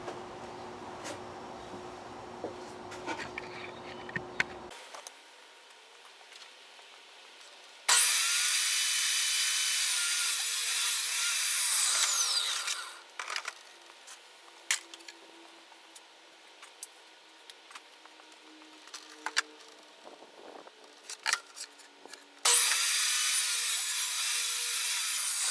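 Wood is cut for the top piece of a plastic-box storage cabinet, with two long bursts of loud, steady, high-pitched power-saw whine separated by quieter stretches of handling knocks, clicks and rubbing, with no voices.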